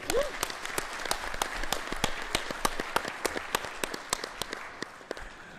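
Applause from a conference audience at the COP27 climate summit in Egypt, soft distant crowd clapping with sharp individual hand claps ringing out, slowly thinning and fading toward the end.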